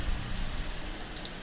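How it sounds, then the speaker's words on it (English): Heavy winter storm rain pours steadily at a motel in Manasquan at night, a dense, even hiss of falling water with no voices. "It's raining really hard here in Manasquan."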